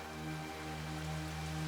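Heavy rain falls steadily as a continuous wash of drops hitting surfaces, with a low constant hum underneath and no voices.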